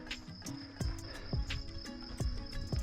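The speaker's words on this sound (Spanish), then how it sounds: "Los grillos." Crickets chirping on a mountain, a steady high-pitched trill close by with footsteps crunching rhythmically on a trail beneath it.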